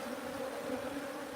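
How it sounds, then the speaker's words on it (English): A swarm of bees in a hive box buzzes in a continuous, steady drone, a few fighting near the bottom, the hum close and even throughout without talk. "So there are a few bees fighting and at the bottom."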